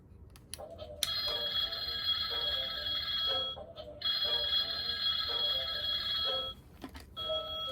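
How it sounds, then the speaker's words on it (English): A Halloween monster hand toy telephone ringing with a shrill electronic bell, loud and close, sounding in repeated bursts separated by brief pauses. "The zombie telephone."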